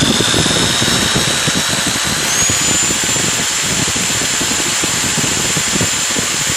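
Power drill running steadily off a portable power station, a continuous loud whirring motor drone with a buzzy, textured grind that holds without pause throughout.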